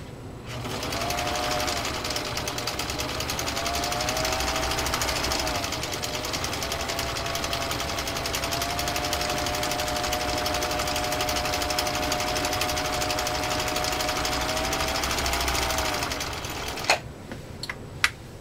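A Husqvarna Viking Type 21 sewing machine runs steadily through three layers of genuine cowhide, its rapid mechanical stitching loud and close with a faint motor whine, then stopping near the end.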